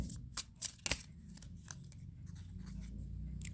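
Tarot cards shuffled by hand produce a few crisp riffling snaps early on, then softer papery rustling and sliding, close and quiet, with no talking.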